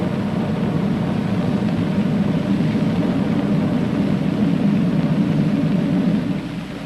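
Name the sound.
spaceship rockets throttled back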